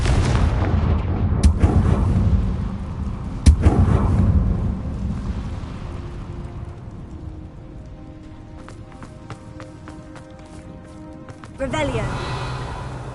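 Confringo fire spell blasts in the game Hogwarts Legacy, several sharp booming impacts with rumbling crackle that fades, then a brighter whooshing burst near the end, with speech present.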